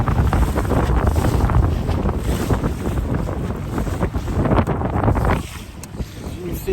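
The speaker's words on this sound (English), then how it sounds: "It's not blowing sustained winds real hard, but it's got a good wind coming down this river." Strong wind buffets the microphone in a steady roar over choppy, whitecapping water on the Tennessee River, filling the whole clip with broadband rumble that drops briefly near the end before surging back.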